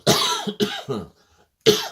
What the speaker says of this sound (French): Elle me fait tousser, tiens.